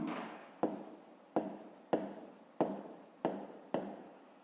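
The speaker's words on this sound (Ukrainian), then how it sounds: "Записуємо в дужках чого літрів." Writing by hand on paper while noting litres of petrol in brackets for a fifth-grade maths exercise: six close, crisp scratching strokes at a steady pace, each fading quickly, with no voices.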